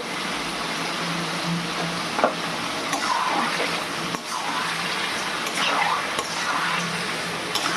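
Chicken frying in a pan with Kashmiri chili powder being stirred in, a continuous close sizzle with wet scraping and swishing stirs rising and falling throughout.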